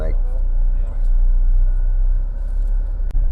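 Steady low engine rumble and road noise fill the interior of a sleeper bus travelling from BSD to Denpasar, Bali, close and constant, with voices talking over it.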